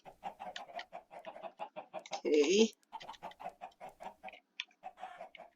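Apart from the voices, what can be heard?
chickens clucking in Dwarven Kingdom video game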